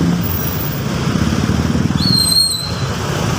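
Road traffic on a busy street where delivery motorcycles ride, with a steady rumbling motor drone close by and a brief high whistle-like tone partway through.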